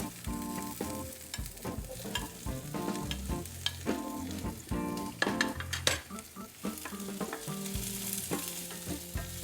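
Onions sauté in a pan for ginisang monggo, a Filipino mung bean stew. A steady close sizzle runs throughout, with stirring clatter mixed among tonal, melodic sounds.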